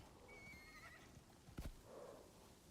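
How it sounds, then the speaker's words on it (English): A horse whinnies clearly with a rising, wavering call in the video game Prometheus Lost Prospectors, followed by a brief thud, against quiet background noise with no talking. "There's a heck of a lot of horses over here."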